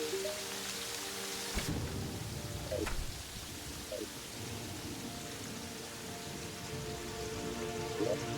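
Steady rain hiss in Terraria with the Calamity mod, with a sharp thunder crack early on and further faint rumbles, continuous and moderately loud, with no talking.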